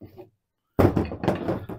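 A detached VW Beetle car door is turned over during disassembly, giving one sudden knock followed by about a second of close rattling and handling noise.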